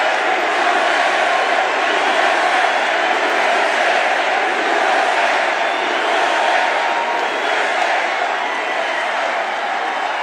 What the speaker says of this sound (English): Raucous crowd.